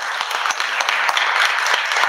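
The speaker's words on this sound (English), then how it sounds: "Special round of applause for Amy and her amazing pour of reflections" Warm, loud applause from a concert audience at a candlelit Christmas performance, many hands clapping densely and evenly throughout, close and full, with no voices over it.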